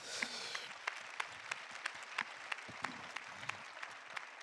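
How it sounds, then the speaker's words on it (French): Audience applause at an education conference, a soft, fairly distant spread of clapping with a few louder individual claps standing out at a regular pace. "On peut vous applaudir, hein."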